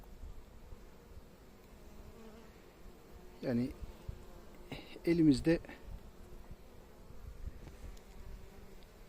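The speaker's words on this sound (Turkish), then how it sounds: "Arılar arımızın bir tanesi geldi. Parmağımıza kondu." A honeybee landed on a finger beside hives at an Istanbul apiary buzzes faintly and close, while someone talks over it in a couple of short bursts.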